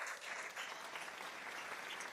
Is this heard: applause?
yes